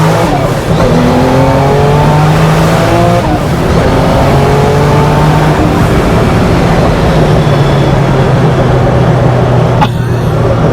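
A Gunther Werks Porsche 911 Turbo engine revs hard and loud up through the gears, each pull rising in pitch before a shift drops it back, with a brief sharp burst near the end.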